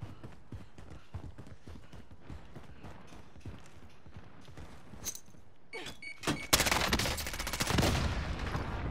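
Gunfire in a shooter video game comes as a long run of rapid, fairly quiet shots, then swells into a louder, denser burst of automatic fire near the end.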